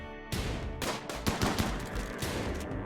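Gunfire in the video game Rimworld, with a rapid cluster of sharp shots and bursts over a game soundscape, loud and close, with no talk.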